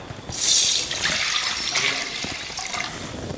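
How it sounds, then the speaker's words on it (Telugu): Water gushes and pours steadily for a few seconds into a cooking pot after frying cashews, loud and close, with a splashing, filling quality and no talking. "వాటర్ వేసుకుందాం"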